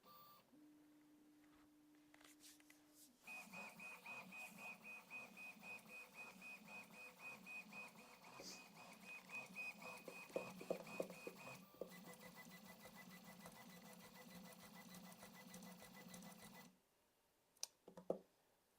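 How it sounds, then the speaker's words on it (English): A Rook 2020 MK2 3D printer runs its shake macro, a steady motor whine with a fixed tone and rapid clicking movements, then stops before a few sharp clicks near the end, close and without talk. "We have a moving printer."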